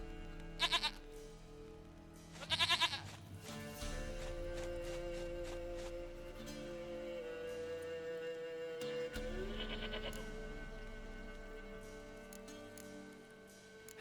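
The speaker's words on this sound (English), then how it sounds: "goat of mine, dearest," A goat bleats in The Witcher 3: Wild Hunt, two short quavering cries over steady game music with ambient tones.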